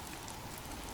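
Steady, dense rain hisses without a break, an even wash of pattering drops with no voices or other sounds over it.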